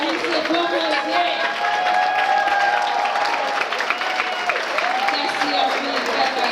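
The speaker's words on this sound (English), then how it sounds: "big round of applause" An audience at a leadership retreat in Weehawken, New Jersey claps and cheers in a dense, sustained round of applause, with voices heard through it.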